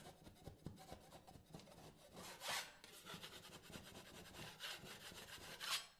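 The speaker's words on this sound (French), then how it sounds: "même chose, on égrène." Dried second coat of filler on plasterboard is lightly sanded by hand, a steady scratchy rubbing in repeated strokes that swell briefly at a few points, close and alone with no talk.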